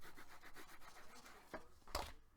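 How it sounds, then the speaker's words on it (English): A bone folder rubbed along a fold in chipboard for a mini album, a series of soft, quick scraping strokes close up, ending in a couple of firmer rubs, with no talk. "I lift up my chipboard and bend it so it has a natural fold. And then I'm just going to take my bone folder"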